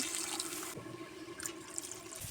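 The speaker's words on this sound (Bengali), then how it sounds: "এবার আমি জল দিয়ে দেবো" Water poured into a simmering fish curry thickened with wheat flour gives a steady, close rushing splash that fades partway through, then returns with faint trickles.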